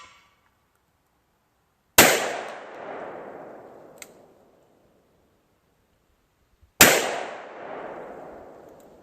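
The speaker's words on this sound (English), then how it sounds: "Okay, those are our 5 shots." Two loud, sharp gunshots from a 500 S&W Special revolver firing handloads with 440-grain bullets over Unique powder, each blast trailing into a long echoing decay outdoors, spaced several seconds apart.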